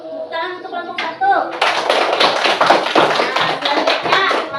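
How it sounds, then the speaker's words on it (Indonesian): A classroom of students clapping for a student group after a presentation: brief taps and a few voices at first, then a burst of loud, close, rapid applause that holds steady to the end. "Tepuk tangan untuk kelompok 1."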